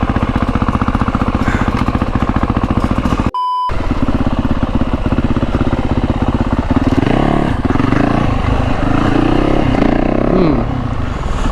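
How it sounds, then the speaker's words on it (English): A 450 dirt bike engine runs loud and steady at close range, cuts out briefly, then picks back up and revs harder with rising and falling pitch as the bike rides off. "Start your bike."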